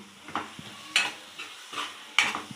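Cabbage frying in a pan, heard as a low sizzle broken by a few scraping stirs of a spoon about once a second, close by and with no voices.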